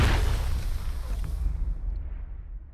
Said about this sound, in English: Many explosions.